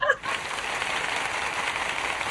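An audience claps for Vera in a continuous, even burst of applause that starts suddenly and keeps going at a steady level without pause.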